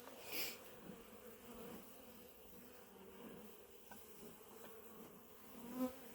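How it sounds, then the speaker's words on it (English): A honeybee buzzes faintly close by at a beehive, a soft steady drone that swells slightly as it moves, with no voices. "We got a bee on there."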